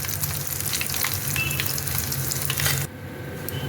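Amudi fish pakoras frying in hot oil, a loud, close, bubbling sizzle with light stirring scrapes that drops off abruptly near the end, leaving a fainter hiss.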